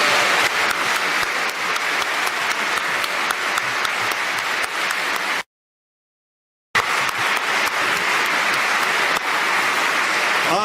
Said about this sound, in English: Could I have another round of applause for them, please?